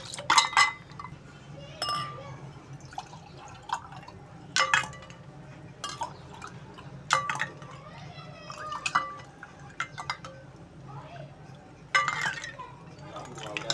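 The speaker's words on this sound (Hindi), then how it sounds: "तो अब इसको हम गिलास में डालते हैं" A cold cumin and fennel drink being poured into a glass, with clinks of glass and liquid splashing in short bursts between moments of someone talking nearby.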